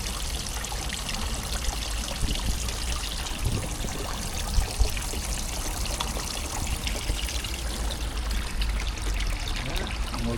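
Pond water pours and trickles through a DIY bakki shower filter for a koi pond, a steady, close, hissing splash that runs continuously with a few brief bumps.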